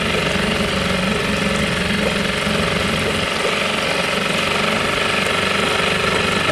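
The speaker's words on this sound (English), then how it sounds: "You let the engine warm up." A boat engine idles steadily while warming up, with the choke partly in and cooling water flowing out the back; a loud, continuous, rapidly pulsing mechanical drone runs throughout with no talk.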